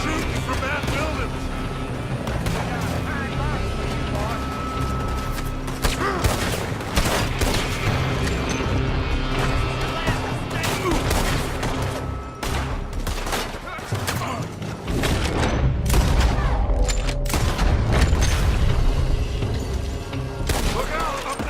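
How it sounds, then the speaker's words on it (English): Dense gunfire in the video game Red Dead Redemption 2 rattles on almost without a break, with rapid shots, booms and rumbling mixed together, loud and close, while voices shout over it. "They're shooting from that building!"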